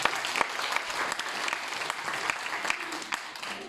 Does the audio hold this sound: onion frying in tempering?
no